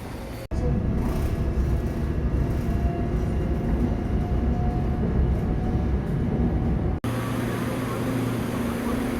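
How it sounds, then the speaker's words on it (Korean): Steady rumble and hum inside a moving subway train heading to Suwon station, a continuous loud ride noise that cuts abruptly twice and then settles into a lower, steadier drone. "지하철 타고 어, 1시간 10분 정도 이동해서 어, 수원역 어, 도착했습니다."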